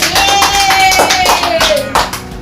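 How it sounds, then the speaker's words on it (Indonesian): Classmates clap in a classroom, a short burst of rhythmic hand claps over a few seconds, with a voice talking over them. "Beri tepuk tangan teman-teman."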